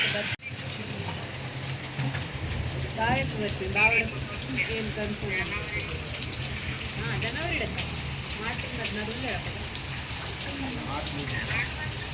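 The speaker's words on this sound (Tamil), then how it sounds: "செம்ம மழை." Heavy rain falls outdoors in the mountains near Manali, making a constant close hiss of drops on surfaces while voices talk faintly underneath.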